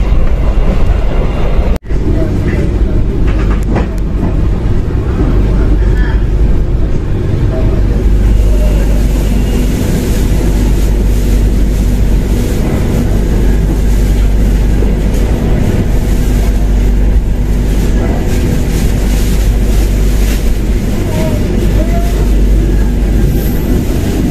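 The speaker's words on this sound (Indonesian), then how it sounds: "Kereta api Jayakarta" Jayakarta passenger train running on rails, a steady loud low rumble with continuous rolling wheel noise and faint rattling throughout, no clear voices above it.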